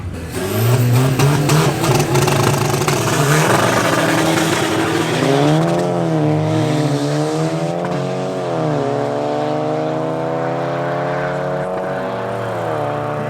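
A Golf 6 GTI and a Cupra launch side by side on the drag strip at Midvaal Raceway, engines roaring loud and close through repeated rising gear changes and long high-revving pulls with brief tire squeal.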